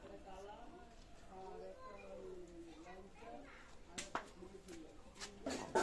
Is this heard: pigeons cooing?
yes